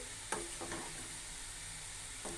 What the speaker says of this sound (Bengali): এখন আমি সবজিগুলো দিয়ে দেব আমি সবজিগুলো ঢেলে দিলাম